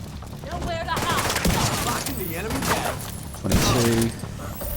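Gunfire from The Division 2 video game, a series of sharp shots spaced irregularly across the moment, mixed with other game effects and background noise.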